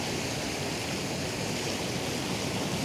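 The Kali Gandaki river in Nepal rushes steadily, a dense, continuous broadband roar of flowing water filling the whole clip with no talk over it.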